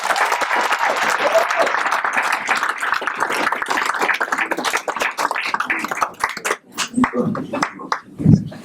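Audience at the 70th annual Lake County Winter Gala applauds a departing board member, a loud sustained burst of hand clapping that thins into scattered claps as a voice begins speaking near the end.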